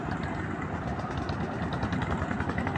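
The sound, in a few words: boats coming and going at a boat landing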